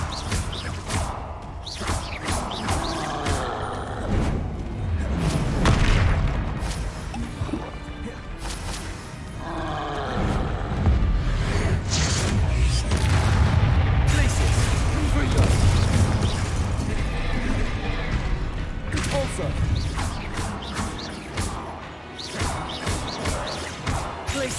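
Repeated Confringo blasting-spell explosions in Hogwarts Legacy, dense booms and crashes layered over continuous busy combat noise for the whole stretch, with a voice casting spells over it.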